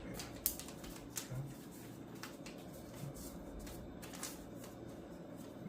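Origami paper is folded by hand with soft, close crinkles and sharp creasing snaps, quiet and intermittent, with no talk.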